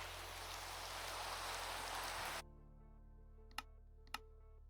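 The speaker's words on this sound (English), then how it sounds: "And it's raining." Rain in Minecraft hisses steadily and loudly for about two seconds, then cuts off abruptly, leaving quiet hum and two sharp isolated clicks.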